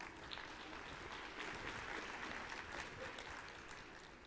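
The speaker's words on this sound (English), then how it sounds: "Give him a round of applause." Steady, dense applause from a conference audience in a hall, heard at a moderate distance as a continuous wash of many hands that holds evenly and eases slightly toward the end.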